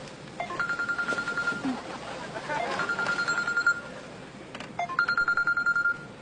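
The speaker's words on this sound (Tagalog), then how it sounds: "Oh, may tumatawag sa'yo." A mobile phone rings with an incoming call, its electronic ringtone repeating in bursts of rapid warbling beeps with short pauses between them, heard indoors at moderate volume.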